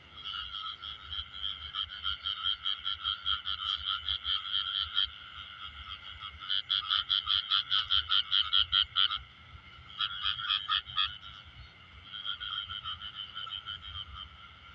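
A dense chorus of frogs calling at night around flooded fields, with rapid trilling croaks that come in long bursts, pause briefly and resume, steady and fairly close.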